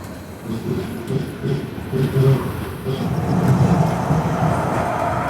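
Hazur Sahib Nanded–Hadapsar Express passenger train on the move in India, giving a continuous low rumble that swells slightly as it runs, with no voices over it.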